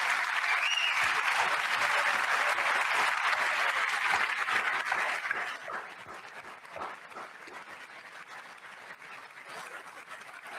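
A crowd applauds at the State of the Union, loud and sustained at first, then easing into thinner, scattered clapping toward the end.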